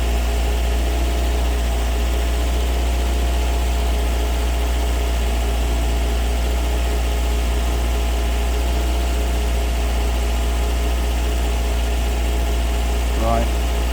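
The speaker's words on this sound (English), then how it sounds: "we'll leave it running in the background." Toyota MR2 engine, burning a bit of oil, idling steadily nearby with a constant low hum and rumble and no revving, with a faint brief sound near the end.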